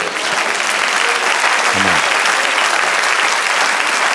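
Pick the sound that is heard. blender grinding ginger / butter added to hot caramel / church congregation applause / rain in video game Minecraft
church congregation applause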